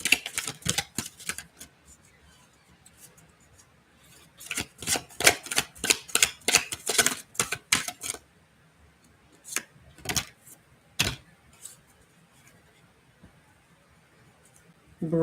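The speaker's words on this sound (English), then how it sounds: "Okay, last shuffle for this deck." A deck of cards is shuffled in bursts of quick, crisp clicking and riffling, with dense flurries near the start and middle and a few isolated snaps later, close up with a faint voice in the background.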